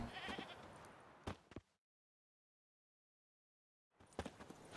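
Goat bait tied to a stake for forktails in The Witcher 3: short bleats and clatter come in two bursts separated by total silence, close and fairly loud.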